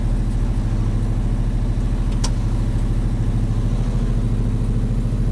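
An LS-swapped Buick drives down the road with a steady, loud, low engine drone and a firm rhythmic pulse throughout, and no talk.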